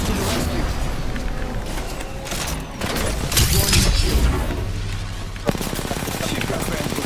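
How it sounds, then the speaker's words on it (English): Rapid bursts of video game gunfire crackle and boom over a loud, busy mix of effects, with a voice partly audible beneath them. "Shots fired and they're hitting me."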